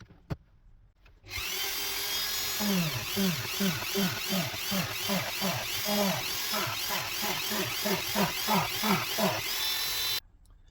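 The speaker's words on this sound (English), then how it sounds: "we've drilled all our pilot holes, as you can see from there" Power drill boring pilot holes through wood with a glued-on paper scroll saw template, a steady whining motor with rhythmic pulsing bites as the bit cuts, loud and close, starting after a short quiet lead-in and stopping abruptly.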